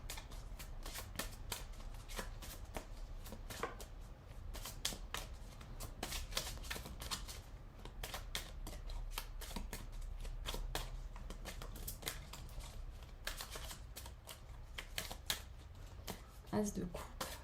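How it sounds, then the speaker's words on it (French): Tarot cards are shuffled by hand in a quiet room, a continuous close riffling and flicking of the deck with repeated sharp snaps, with a voice talking softly over it. "Je réfléchis en même temps que je bats vos cartes."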